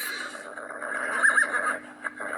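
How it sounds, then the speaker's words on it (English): A horse neighs loudly and close by in a single drawn-out whinny, its wavering cry filling the moment with no talk over it. "And we've got a horse."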